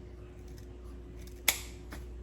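Scissors make a single sharp snip through ribbon while trimming a sunflower ribbon tutu, one crisp close cut standing out against a quiet, steady background hum.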